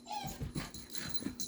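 Excited puppy with the zoomies, giving short wheezy huffs and faint yips close by, with quick scrabbling movement between them.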